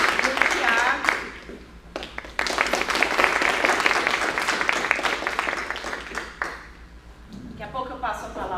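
A seated audience at a panel discussion on ableism in cinema claps in a sustained burst that swells, dips briefly, then fades, with a voice speaking over the tail end.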